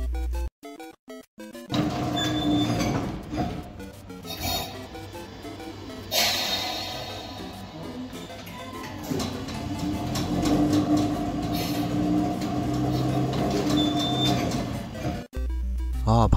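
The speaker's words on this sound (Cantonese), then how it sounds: "呢一套由日立所製嘅引擎，聲音聽起上嚟仍然好精神噶。" An 1980s Tokyu DeHa 3450 electric railcar with a Hitachi-built motor runs with a loud, sustained whine and mechanical drone amid clatter, opening with sharp knocks and cutting off at the end.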